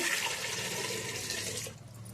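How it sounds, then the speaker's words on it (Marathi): Water pours steadily over potatoes in a pot for a couple of seconds, a close rushing splash that thins out near the end. "आता हे आपण उकडाय टाकू, त्याच्यात पाणी ओतू"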